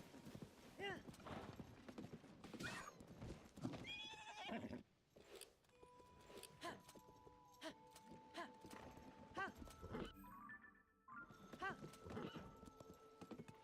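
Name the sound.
horse galloping and neighing in Zelda Tears of the Kingdom video game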